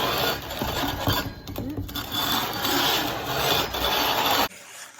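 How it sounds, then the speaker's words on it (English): Steady abrasive rubbing of sanding on the bottom of a bronze casting, continuous and fairly loud, with a faint rhythmic back-and-forth, stopping abruptly near the end. "I'm just sanding that bottom down so it's nice and flush everywhere"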